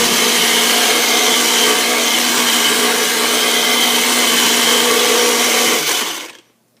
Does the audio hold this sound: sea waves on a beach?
no